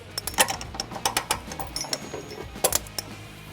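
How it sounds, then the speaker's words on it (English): Under a Subaru Forester, a 19mm socket on a ratchet tightens trailer hitch bolts in quick clusters of close, crisp metallic clicks with short pauses between them, and no talking. "for the bolts underneath the vehicle, we're going to be using a 19mm socket to get those tight"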